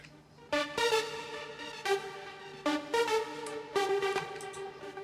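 A Nexus synth arpeggiator in FL Studio plays bright, harmonically rich repeating phrases in four clear bursts over a steady low drone, with no voices.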